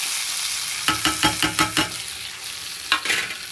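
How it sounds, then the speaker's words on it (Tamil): Grated coconut and ginger stir-fried in a pan, a soft sizzle punctuated by a quick series of about five rhythmic scraping strokes, then a pause and two more. "இஞ்சி சேர்த்துட்டு உடனே இந்த தேங்காவை போட்டுக்கிறோம்."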